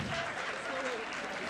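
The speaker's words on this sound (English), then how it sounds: "Still clap for them." An audience at a live event in Ghana applauds, a dense and steady wash of clapping for the whole short moment, with a voice speaking over it.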